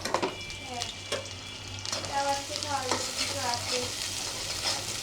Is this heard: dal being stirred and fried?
yes